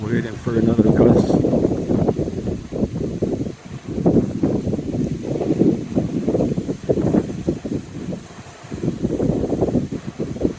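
Gusty wind up to 35 mph in Boca Raton, Florida, buffets the microphone in a steady low roar that swells and eases in waves for about ten seconds.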